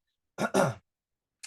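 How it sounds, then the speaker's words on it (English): A cough from someone getting over a cold: two quick, close, fairly loud bursts in succession, then a brief faint sound after a pause. "excuse me while I have a cough"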